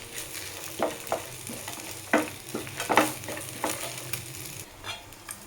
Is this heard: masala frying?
yes